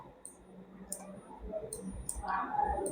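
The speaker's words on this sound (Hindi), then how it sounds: "ऑल्ट को प्रेस करते हुए आप माउस क्लिक करेंगे" A computer mouse clicks four times at a steady, slow pace while the Alt key is held, crisp and close, with faint room noise and a soft voice near the end.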